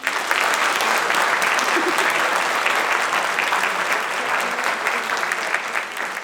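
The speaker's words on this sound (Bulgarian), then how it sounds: "Нека залата се изпълни с аплодисменти за вас" Sustained, dense applause fills an awards hall for a creator-of-the-year honoree, loud and even from start to finish with a faint crowd murmur beneath the clapping.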